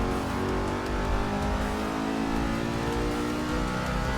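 A heavy stock car engine of almost 800 horsepower in a Forza Motorsport 6 NASCAR race drones loud and steady, a deep, continuous roar with layered harmonics and no talking.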